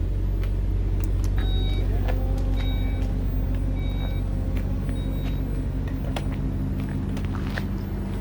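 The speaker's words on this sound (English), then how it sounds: "That exhaust sounds amazing." Low, steady exhaust rumble from a Porsche Panamera Sport Turismo Turbo S E-Hybrid, droning continuously beneath a few short electronic beeps.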